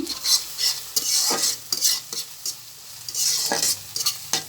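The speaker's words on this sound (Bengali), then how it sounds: "পেঁয়াজটা একটু নাড়াচাড়া করতেছি বাজা বাজা হবে পেঁয়াজটা" Onions frying in a pan for a Baile fish and tomato curry are stirred with a utensil, giving rhythmic close scrapes and clinks against the pan over a bright sizzle, with no voices.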